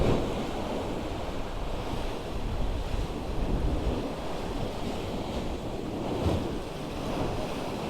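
Sea water surges and churns through a coastal tunnel cave at S'Illot, Mallorca, making a constant loud roar of surf mixed with heavy wind buffeting the microphone, with no talking.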